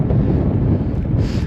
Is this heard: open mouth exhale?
no